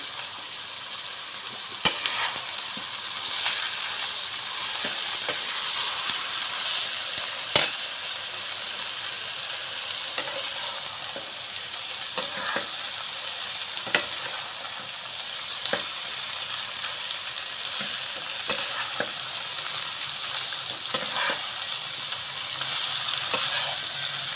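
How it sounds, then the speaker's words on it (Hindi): Chicken chowmein with sauce and salt frying in a pan, a steady close sizzle running throughout with irregular scraping clicks of stirring spread across the whole stretch, no voices. "थोड़ा सा हम इसको भूनेंगे"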